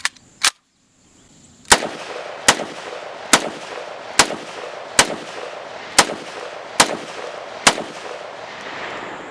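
A VZ58 rifle fitted with a JMAC Customs RRD 4C muzzle brake fires about ten sharp, loud shots outdoors, two quick ones first, then a steady series spaced under a second apart, each with a short ringing tail.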